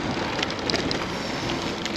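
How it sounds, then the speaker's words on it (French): A steady rain shower during a long-distance bike ride, continuous broadband hiss with scattered brighter patter and some wind buffeting on the microphone, no voices. "Bon, de nouveau une averse."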